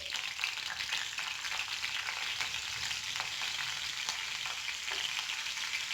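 Steady, close sizzling and crackling of hing (asafoetida) frying in hot oil, a continuous hiss with small pops, no voices.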